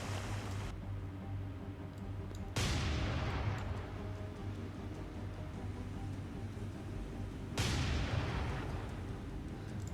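Naval gunfire in the War on the Sea game, a PT boat action, with deep booming salvos cutting in three times over a steady rumble of engines and sea, no talk heard.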